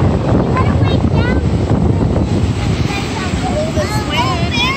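Strong wind buffeting the microphone at Quintana Beach, a loud continuous low rumble and roar with faint cries over it.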